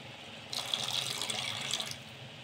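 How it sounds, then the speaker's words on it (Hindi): Water pours into a pan of frying masala for matar paneer, a steady splashing, running stream lasting about a second and a half at close range, then stopping. "इसमें डालेंगे थोड़ा सा पानी,"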